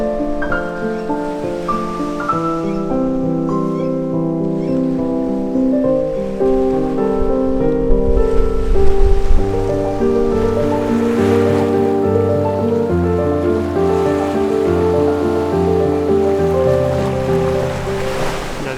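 Ocean waves wash continuously onto the rocky shore at Ballintoy on the Northern Irish coast, a steady loud roar of surf with layered tonal background sound and no voices.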